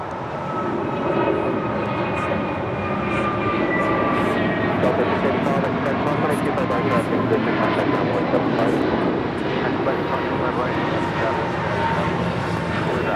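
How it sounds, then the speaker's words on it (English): A FedEx Boeing 757 returns to land at LAX, a steady, broad engine roar holding loud and near for the whole stretch, with faint tonal whine on top and a voice now and then beneath it. "Oh, that is the 757 coming back."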